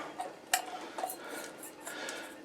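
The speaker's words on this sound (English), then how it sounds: "I have to place the salt in here now." Sea salt being placed into a container makes a few light, close clinks and scrapes, with one sharper tap among quieter rustles, all fairly faint.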